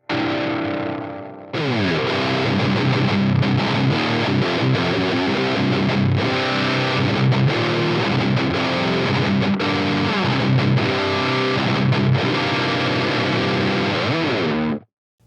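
Distorted electric guitar sent through a Phenyx Pro PTG-11 wireless guitar system, a brief quiet start then dense, loud, continuous playing with effects and chorus-like shimmer, ringing steadily until a sudden stop.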